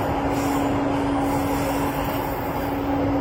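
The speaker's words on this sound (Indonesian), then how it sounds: "Wah, keretanya berbelok dan kita melewati kawasan Pancoran." Jabodebek LRT train rounding a curve near Pancoran, a steady loud rolling rumble with a sustained mid-pitched hum throughout, heard from inside the car with no talk.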